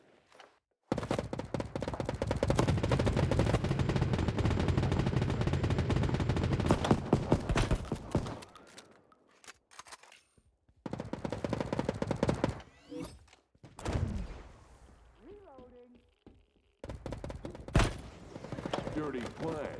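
Rapid gunfire from Battle Prime, a mobile shooter, during a team deathmatch, including sniper rifle shots: dense bursts of loud reports in sustained runs, broken by short pauses and separate clusters of shots, with game voice announcements at times.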